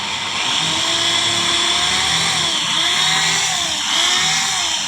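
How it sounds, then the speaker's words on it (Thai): Electric drill boring a water well: a loud, steady motor whine with a shifting pitch that drones on without a break, close by and heard with no voices. "สว่านเจาะน้ำ"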